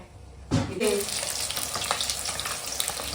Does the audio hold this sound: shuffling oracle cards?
no